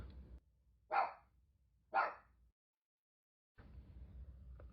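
A small pug barks twice, about a second apart, with short sharp yaps close to the microphone, indoors over a low background hum that drops out briefly before returning.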